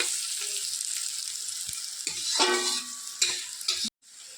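Cashews and raisins sizzle in hot white oil, a loud, close crackling hiss with bursts of spattering and stirring scrapes, cut off abruptly near the end.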